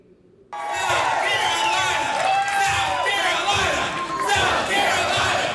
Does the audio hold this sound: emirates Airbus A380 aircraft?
no